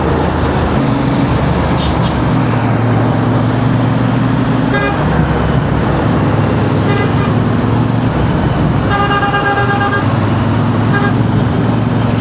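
Dense rush-hour road traffic with a cleaning truck among the cars, a steady loud roar of engines broken by several car horn toots, with voices briefly heard.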